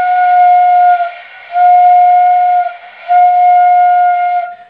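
Bansuri bamboo flute blown with pressed lips gives three long, steady, clear notes at the same pitch, with short breaths between them. It is loud and close, with no talking.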